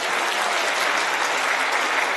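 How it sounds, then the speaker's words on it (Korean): Steady, loud, dense applause from a congregation at a prayer-house revival service, sustained evenly as praise to God. "하나님 감사하다고 영광의 박수."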